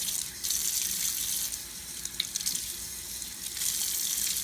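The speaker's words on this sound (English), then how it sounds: "then I'm going to do a quick rinse on my veggie scrub cloth" A veggie scrub cloth is rinsed under a running kitchen tap, giving a steady hiss of flowing water that splashes and shifts in intensity, close and alone.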